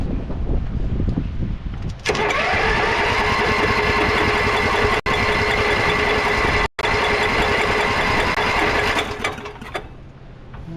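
An old Heald Hauler three-wheeler engine, unused for four years, cranks and runs roughly on choke, making a loud, rattling mechanical drone with two brief cutouts before it fades near the end.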